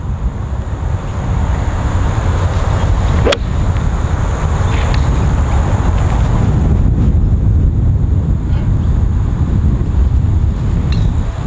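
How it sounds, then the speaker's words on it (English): Strong, continuous wind buffets the microphone outdoors during golf practice with a low rumble throughout, with no talking and only a faint click partway through. "And it's really windy here"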